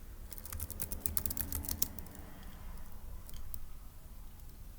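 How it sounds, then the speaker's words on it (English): Rapid, irregular keystrokes on a computer keyboard, close and fairly loud, clattering in quick bursts for about two seconds before thinning out over a steady low background hum. "let's type up in our notes that"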